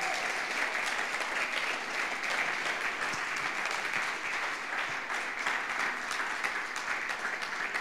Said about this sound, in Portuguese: Dê uma oferta de palmas ao Senhor.